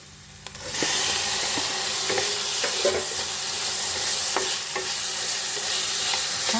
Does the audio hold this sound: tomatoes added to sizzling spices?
yes